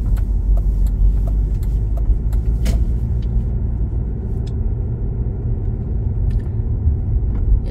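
Steady, close engine rumble and tire noise from a car driving slowly through the residential streets of Russell Gardens in Great Neck, New York, with occasional light clicks and rattles inside the cabin.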